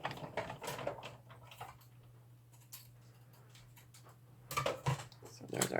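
A die cut machine cuts through card nearby with a faint, steady low mechanical hum. Clustered clicks and ratcheting ticks come at the start and again near the end, and there is no talk.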